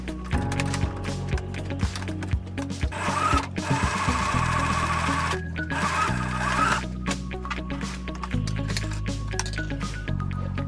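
A sewing machine runs a French seam on cosplay fabric, whirring loud and steady in several bursts of stitching, broken by short pauses and the clicks of handling the machine.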